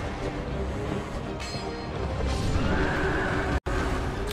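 A horse neighs and whinnies loudly in the Dark Souls 2 game world, layered over dense, continuous game ambience with a sharp brief dropout near the end.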